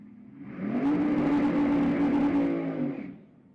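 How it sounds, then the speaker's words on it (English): A drag racing car at Houston Raceway Park has its throttle revved hard once, a loud engine roar rising, holding for about two seconds, then falling away, heard alone. "You heard him whopping the throttle on the big end"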